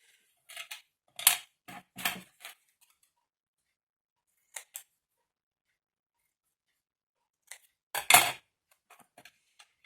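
Scissors cut a paper pattern from scrap paper in short crisp snips, a few quick bursts separated by silence, close and quiet, while making a Christmas card.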